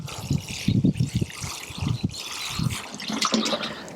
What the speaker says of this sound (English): just giving it a little soak from the top just to help settle that down